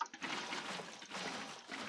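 Water placed in Minecraft makes a short, soft trickling splash, faint and close, with a brief flowing wash that fades and returns once; no talk over it.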